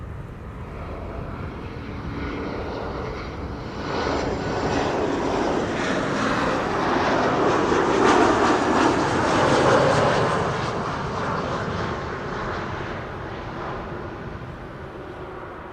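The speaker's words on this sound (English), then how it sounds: "BA flight 8451 arriving from London City" A British Airways Embraer 190 jet on arrival at Amsterdam Schiphol gives a steady, broad engine roar that swells to a peak mid-pass and slowly eases, heard at a distance with no voices.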